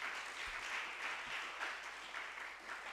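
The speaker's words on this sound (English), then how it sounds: "Please give her another round of applause." Faint, distant applause at a secondary school debate competition greets the master of ceremony, a steady wash of clapping heard from far off.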